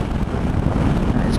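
Strong side wind buffeting a rider on a Royal Enfield Himalayan motorcycle on a windy day, a loud, steady low roar and rumble filling the microphone continuously, close and unbroken.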